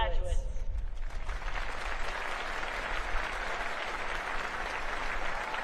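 Audience at a Naval Academy commencement in Annapolis applauding graduates, a dense, steady wash of many hands clapping that rises after a brief voice at the start and carries on evenly, fairly loud and reverberant.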